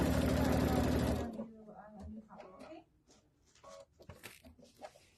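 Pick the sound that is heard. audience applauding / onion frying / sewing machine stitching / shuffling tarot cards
sewing machine stitching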